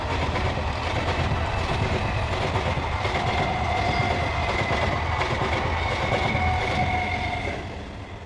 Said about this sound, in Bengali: ও দেখো ট্রেনের আওয়াজ যাচ্ছে